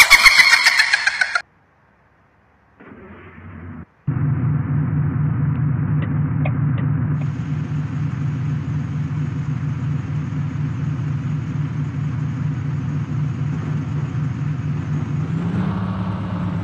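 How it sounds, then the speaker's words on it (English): Hino 500 dump truck from a Bus Simulator Indonesia game mod: after a short burst of sound and a pause, the diesel engine cranks and catches, then settles into a loud, steady idle with a slight rise near the end. "Langsung kita buat jalan aja kawan, mod Hino 500 dump truck-nya ini kawan."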